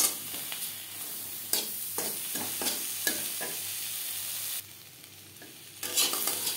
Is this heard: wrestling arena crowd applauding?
no